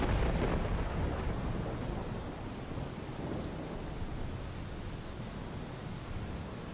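Heavy, steady downpour in Valsad, Gujarat, with thunder rumbling, a continuous dense roar of rain hitting surfaces that holds loud and even throughout, with no voices.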